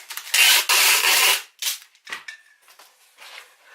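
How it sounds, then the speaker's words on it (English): Packing tape gun pulling tape off the roll, a loud scratchy screech for about a second, then shorter rasping tears and rustles, close up. "I hate these tape guns sometimes."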